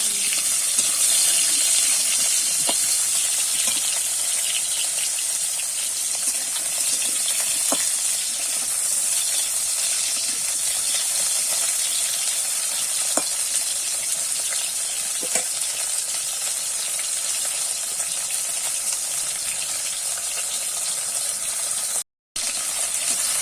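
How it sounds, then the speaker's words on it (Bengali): Vegetable stalks fry gently in a pan for shukto dal, giving a steady, even sizzle throughout. Occasional faint clicks of stirring punctuate it, with a brief dropout near the end and no talking. "ডাটাগুলো কিন্তু আমি হালকা করে ভেজে নিয়েছি"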